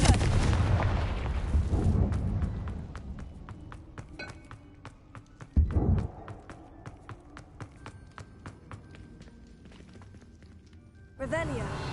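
Confringo fire-spell blasts from Hogwarts Legacy burst at the start and again partway through, heavy booming hits among rapid clicking effects, with a voice speaking near the opening and close.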